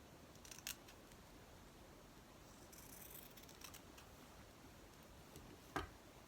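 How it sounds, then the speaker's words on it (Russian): Scissors snip through thin organza or tulle fabric while a small Christmas tree shape is cut out, a few quiet, sharp, separate clicks over a faint background. "Вырезаю ножку."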